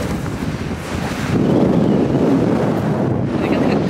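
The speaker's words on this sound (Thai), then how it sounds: "ลมแรงมากได้ยินไหมเนี่ย" Strong wind buffets the microphone on the Jurassic Coast of southern England, a loud continuous low roar that swells in force partway through and stays heavy, with a hint of surf beneath and no voices.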